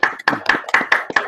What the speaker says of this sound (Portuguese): bater palmas de novo